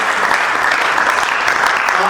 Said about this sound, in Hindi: एक बार इनके लिए प्लीज ताली बजाइएगा